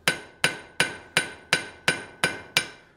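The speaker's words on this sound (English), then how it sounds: "we're ready to come back out to the anvil. And we're going to work on the sides again, maintaining a square" A blacksmith hammers a hot steel bar on an anvil, squaring its sides and drawing out a point. Eight evenly spaced, ringing metallic strikes fall about every third of a second, close and alone.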